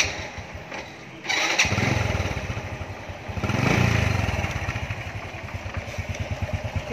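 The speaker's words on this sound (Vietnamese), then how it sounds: "Tiếng bô nghe rất hay." A Honda Wave 110 motorcycle engine with a stock exhaust starts up and settles into a steady, low rumbling idle, close by and continuous.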